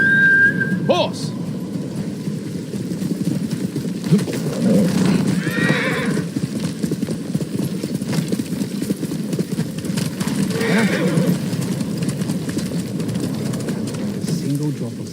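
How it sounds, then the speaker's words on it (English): A horse in the samurai action game Ghost of Tsushima whinnies near the start, then hooves clip-clop at a steady walk under ambient game sound and bird calls, with a voice speaking over it. "Horse!"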